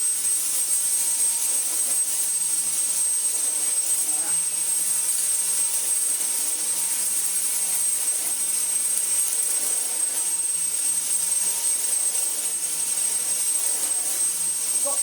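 A Dyson V10 cordless vacuum cleaner runs at full power during a refurbishment, giving a loud, steady high-pitched whine with a constant rushing airflow roar and no pauses, close by, with nobody talking over it.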